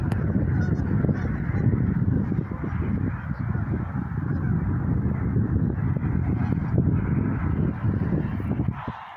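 A flock of geese honks continuously outdoors, overlapping calls at moderate distance forming a steady chorus for about nine seconds, with no speech.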